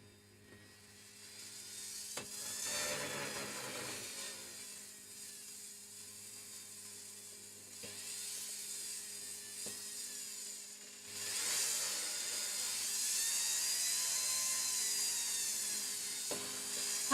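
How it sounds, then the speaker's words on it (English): High-speed rotary polisher whining as it applies final polishing compound in a craft workshop, a steady bright buzz that fades and swells across passes, up close with no talking. "one final polish with the final polishing compound"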